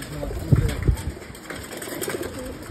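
Pigeons give soft, low coos in a couple of short bursts close by, over a faint steady background hum with no speech.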